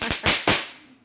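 Three sharp firecracker bursts go off close by in quick succession, each a loud crack with a short decaying tail, then fading to quiet.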